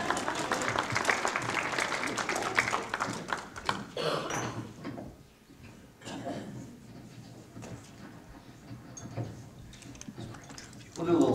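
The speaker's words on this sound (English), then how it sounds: "Feel free to clap." An audience at a Capitol Hill talk claps for about four seconds in a moderate, scattered round of applause. It gives way to a quieter room with shuffling, tapping and talking.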